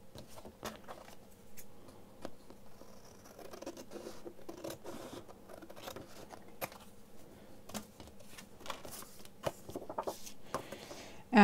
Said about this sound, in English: Let me grab another piece of card. Probably going to want to cut this down.